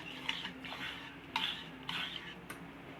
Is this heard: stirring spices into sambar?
yes